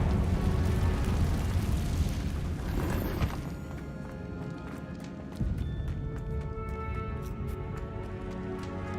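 Confringo, an explosive spell in the video game Hogwarts Legacy, erupts as a loud, dense roaring blast that fades after a few seconds into a rumbling tail scattered with crackling debris clicks.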